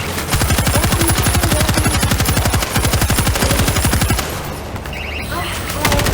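Loud, rapid automatic gunfire in World War Z's Horde Mode zombie defence: a continuous stream of close machine-gun shots for about four seconds, then it breaks off into rumbling game noise with a brief return of fire at the end.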